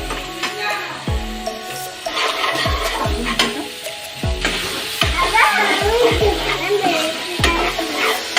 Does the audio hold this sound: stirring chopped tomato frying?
yes